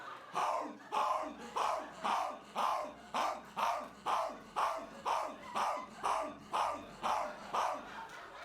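A dog barks repeatedly at an even, steady rhythm, about a dozen sharp barks close by with no pauses.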